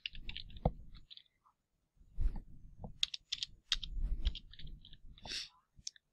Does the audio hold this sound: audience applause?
no